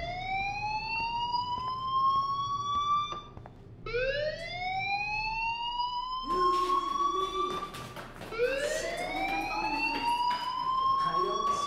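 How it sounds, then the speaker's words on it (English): A fire alarm in the video game Life is Strange sounds in rising, whooping electronic sweeps that repeat every few seconds, with some overlapping layers, at moderate volume. "do you hear that fire alarm?"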